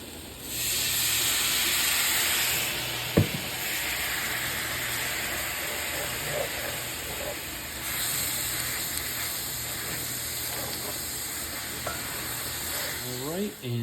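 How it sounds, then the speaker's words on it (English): A hot skillet with browned fond is deglazed with mirin, giving a steady sizzle and steamy hiss with a few sharp stirring scrapes, close and alone without talk. "Gonna go ahead and deglaze that with some mirin."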